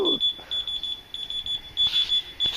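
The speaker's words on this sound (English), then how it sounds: "this smoke alarm is making this huge noise that's annoying" Repeated high-pitched electronic chirps from a household smoke alarm, sounding in a rapid steady rhythm close by, with a brief voice at the start.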